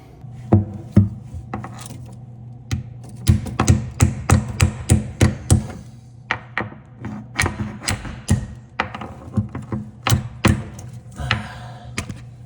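Repeated sharp metallic taps and knocks in an irregular rhythm as mounting clips are hammered under a porcelain undermount bathroom sink in a cramped space, over a steady low hum.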